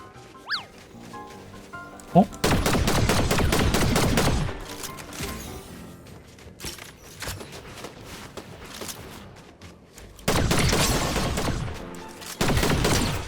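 Rapid bursts of automatic gunfire from a shooter video game, several loud volleys separated by quieter stretches, with a voice talking during the gaps.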